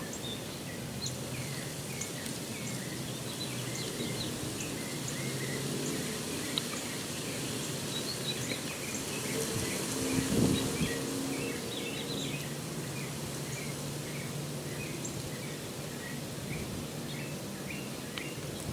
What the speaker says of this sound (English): We got a lot of birds out here.